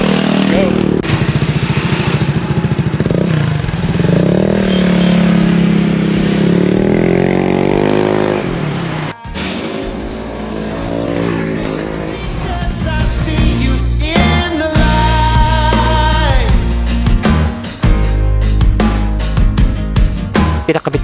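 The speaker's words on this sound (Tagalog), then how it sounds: "ito na yung version 3 pang 160" A Honda PCX 160 scooter-style motorcycle fitted with an Etech Power Pipe 3.0 exhaust revs hard and loud, its engine note rising and falling through repeated throttle blips, steady and close throughout.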